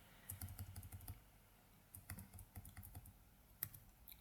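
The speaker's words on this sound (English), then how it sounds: "using the arrow keys of the keyboard again, I'm going to move that into position. Just going to keep on tapping it away." Computer keyboard arrow keys are tapped in quick, light bursts of clicks, close and fairly quiet, with short pauses between the runs of taps.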